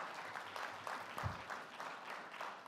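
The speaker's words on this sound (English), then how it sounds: "give him a round of applause" Applause rises for a bishop being acknowledged at a community briefing on gun violence, a faint, distant crowd clapping in a continuous patter.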